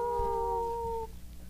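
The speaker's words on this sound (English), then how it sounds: "She howls like a wolf." A dog howls like a wolf in one sustained, steady, slightly falling note that holds for about a second and then stops, leaving a low background hum.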